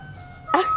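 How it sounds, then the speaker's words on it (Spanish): A brief musical car horn plays a bright melodic tone of the tune La Cucaracha after a faint hum, short and moderately loud, heard nearby. "Hace mucho que no escucho un claxon así."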